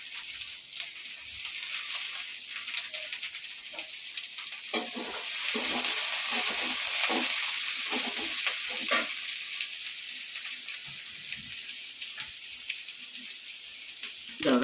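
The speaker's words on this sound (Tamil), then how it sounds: "இப்போ வெங்காயம் போட்டு வதக்கியிருக்கிறோம், கடுகு பருப்பு போட்டிருக்கிறோம்" Onions sautéing in a pan with mustard seeds, lentils and curry leaves give a steady, close sizzle and crackle that swells midway, with occasional stirring clinks and no talking.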